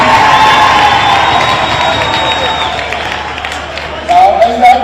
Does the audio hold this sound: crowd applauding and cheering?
yes